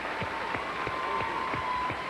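Applause from a television studio audience at the close of a Nashville Network country music show, a steady wash of clapping with a low pulsing rhythm underneath, moderately loud throughout.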